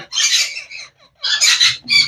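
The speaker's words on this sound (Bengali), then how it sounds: "একটা পিওর সাদা টিয়া পাখি মানে অ্যালবিনো রিংনেক টিয়া পাখি" Albino Indian ringneck parrot giving harsh, raspy squawks up close, three loud bursts with short pauses between them.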